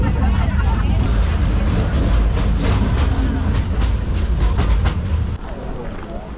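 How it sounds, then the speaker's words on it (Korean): Continuous rumble and clatter of a tourist train moving slowly at Iguazu Falls, with light rhythmic clicks and faint background chatter. "기차 속도가 되게 천천히 가네요."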